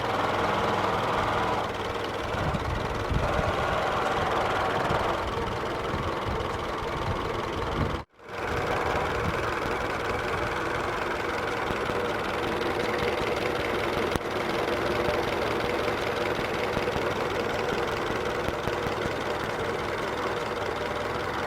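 A 1923 Ford Model TT truck engine idles steadily and quietly, a smooth even running note with a momentary drop partway through before settling back into the same calm idle.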